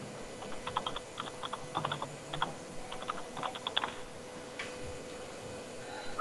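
Rapid bursts of typing on a computer keyboard, close and clear, with irregular clusters of key clicks separated by short pauses over a low background hum.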